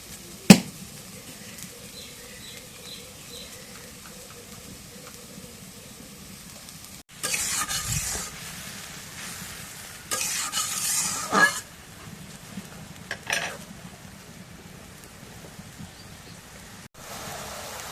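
Chili powder, turmeric and salt fry in a pan under a soft, steady sizzle, broken by louder scraping bursts as the spices are stirred. The sound is close, with no talk.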